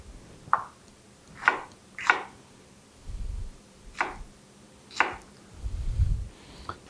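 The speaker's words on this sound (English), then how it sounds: "So as I keep chopping away here, I'll talk a little bit about what comes next." Hot peppers being rough chopped with a knife on a cutting board for fermented hot sauce, about eight sharp, separate thunks at uneven intervals, close and fairly quiet, with no talking.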